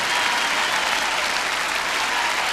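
Dense, steady applause from a large crowd at the Viña del Mar festival in 2001 after a comedy act, loud and sustained without letup, filling the hall evenly.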